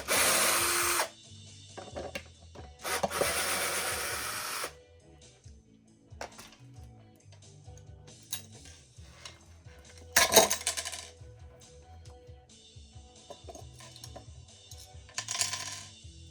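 Small metal screws being removed and dropped during a project that involves a guitar, giving sharp, bright metallic clinks and short rattles in sparse bursts between near-silent pauses.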